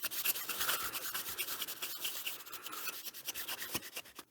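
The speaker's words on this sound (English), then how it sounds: "And again, flexible sandpaper." Flexible sandpaper rubbing over the tarnished metal of an oak acorn penny mech, a steady close scratchy rasp with rhythmic back-and-forth strokes and no talk.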